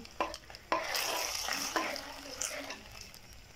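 Spoon stirring a thickened milk and sugar mixture for kulfi in a pan, a steady scraping and bubbling texture with a few sharper clinks, fairly close and continuous.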